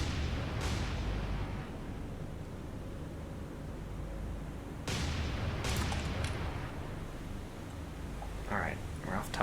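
Distant warship guns thudding in a naval video game, a few muffled booms spread across a constant rumbling sea-and-engine wash, with a person talking quietly over it.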